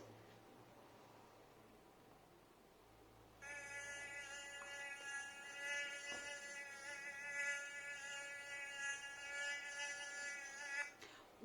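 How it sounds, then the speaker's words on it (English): A mosquito's thin high-pitched whine starts suddenly after a quiet stretch and holds steady and close for about eight seconds, wavering slightly in loudness. "This is a mosquito."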